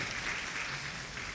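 An audience at a Sunday program applauds after a class, a brief, steady patter of clapping from many hands, moderately close and without talk.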